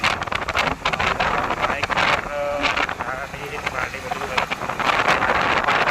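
Steady rushing wind buffets the microphone throughout, with a roaring broadband noise and people talking over it.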